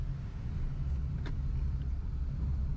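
An MG Windsor car starts and accelerates, giving a steady, close low rumble that holds evenly throughout with no voices.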